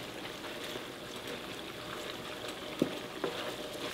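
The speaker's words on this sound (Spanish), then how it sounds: "Aquí mismo en esta grasita vamos a poner a dorar las costillitas." Pork ribs browning in rendered bacon fat for charro beans, giving a steady close sizzle and crackle with two brief sharp pops near the end.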